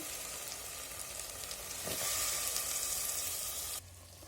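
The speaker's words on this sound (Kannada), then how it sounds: "ಈಗ ತರಕಾರಿ ಎಲ್ಲ ಹಾಕ್ತೀನಿ ಅದರಲ್ಲಿ" Vegetables and sprouted horse gram hitting hot oil, a loud, dense, continuous sizzle that swells midway and then drops off abruptly near the end, with no talking over it.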